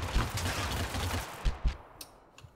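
Gunfire in the video game Totally Accurate Battlegrounds comes as a dense burst of rapid shots followed by a few separate louder bangs, fairly close and loud.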